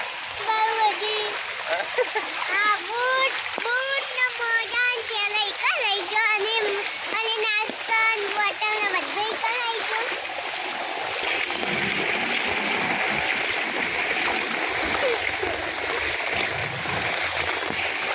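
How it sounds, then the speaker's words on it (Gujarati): Heavy downpour splashes into river water during a monsoon outing in Patan, with a steady wash of spray while children chatter and shout close by through the first half. "बारिश आ गई है गाइस"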